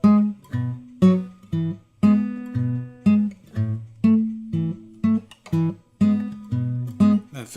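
Acoustic guitar playing a Piedmont picking bass line, steady alternating bass notes at a moderate even pulse with brighter treble notes ringing above, close and clear, with no talking.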